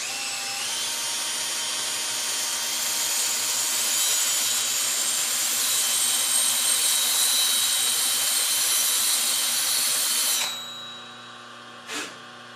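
A high-speed steel drill blank spun by a cordless drill against a CBN grinding wheel gives a steady, loud abrasive grinding hiss for about ten seconds, then stops abruptly, leaving a faint motor hum and one brief knock.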